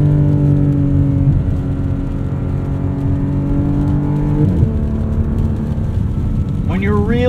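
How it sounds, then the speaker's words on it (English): A 2024 Porsche 718 Cayman GTS 4.0 with a PDK gearbox drives under load, its flat-six engine and exhaust droning loudly and steadily. Pitch climbs through the revs and resets at quick gear shifts. "this exhaust, I think, sounds fantastic"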